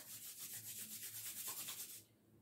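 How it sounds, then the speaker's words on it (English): Palms are rubbed briskly together in a rhythmic back-and-forth swish, close and soft, stopping after about two seconds, with no one talking. "Rub your palms."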